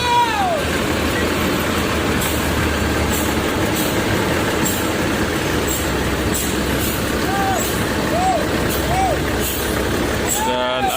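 A Rosalia Indah coach bus rumbles steadily as it pulls out of a parking area at Palembang, with hissing air-brake bursts and brief squeals over the loud idling engine.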